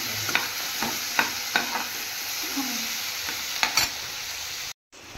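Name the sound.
small shrimp frying in a pan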